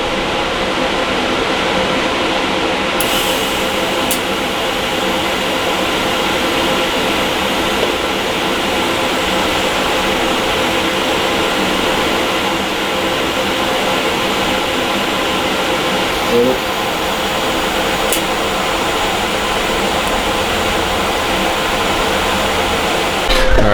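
Steady, continuous welding hiss and buzz as the wastegate is welded onto a turbocharged Silverado, holding an even level throughout with a few faint clicks and no talking.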